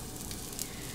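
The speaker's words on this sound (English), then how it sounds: "That's sizzle." Arepa sizzling on a hot plancha, a steady close crackling hiss of frying that runs evenly for about a second with no voices.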